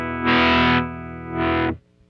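An electric guitar runs through a Strymon Riverside overdrive pedal, two sustained distorted chords swelling and fading in tone as an expression pedal shifts the settings, close and prominent.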